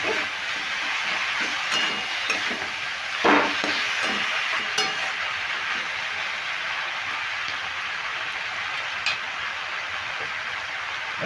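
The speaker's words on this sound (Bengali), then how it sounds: "এগুলো দিয়ে মশলাগুলো দিয়েছি আমি আমি এবার কষিয়ে নিচ্ছি" Ground cumin and other spices sizzle and get stirred in a pan while cooking down for a winter-vegetable spinach curry, a steady crackle with scattered scraping clicks of a spoon against the pan.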